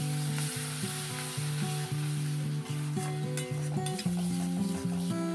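Tomato paste sizzles steadily as it is sautéed with spices in hot oil for bhindi masala. The even, crackling frying continues throughout, with light stirring and tonal background music.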